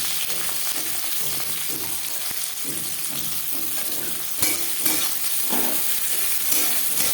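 Chopped onion and green chili fry in refined oil with a constant close hiss, broken by occasional sharp clicks of a utensil against the pan.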